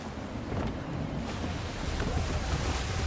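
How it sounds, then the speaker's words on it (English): Gusty wind and rolling waves at sea aboard a sailing ship in Assassin's Creed III, a continuous broad rush with surging swells, loud and unbroken. "Gusty winds can be difficult to manage."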